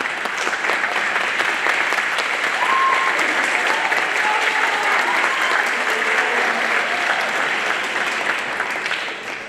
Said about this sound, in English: Please stand so that we can give you a round of applause for joining us on this evening's concert.